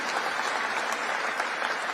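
An audience claps steadily for a couple of seconds, a dense, even patter of applause with no voices standing out.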